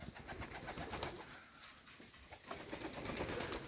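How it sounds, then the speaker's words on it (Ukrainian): Pet pigeons coo softly while feeding amid a busy, rustling background, with bursts of flapping wings as birds move about nearby. "Голуби літають, харчуються зверху"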